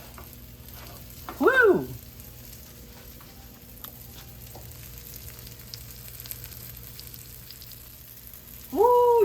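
Pork schnitzel frying in a buttered pan gives a low, steady sizzle throughout, and a voice briefly exclaims near the start and again at the end.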